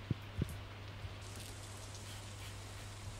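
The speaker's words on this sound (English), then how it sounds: "So it's raining today, but it's going to be sunny again tomorrow." Soft, steady rain falls in the farming game Stardew Valley, a constant gentle hiss with a few faint thumps near the start and no talking.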